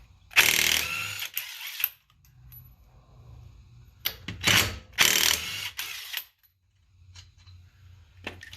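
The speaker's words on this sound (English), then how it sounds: "Impact Wrench in action." A DeWalt DCF889 20V cordless impact wrench with a 1/2-inch chuck loosens a lug nut on a 1996 Mustang GT. Several loud, close bursts of rapid hammering are separated by quieter pauses.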